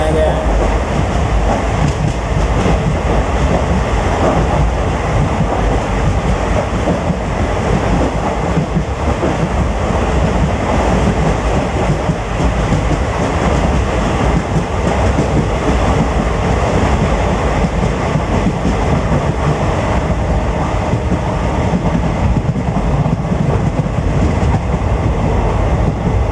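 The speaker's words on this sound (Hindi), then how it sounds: "काफ़ी ऊंचाई के ऊपर से ट्रेन जा रही है" Steady, loud rumble and clatter of a passenger train running on a hill track cut through hills between Jabalpur and Gondia during the monsoon, continuous close wheel and carriage noise with no pauses.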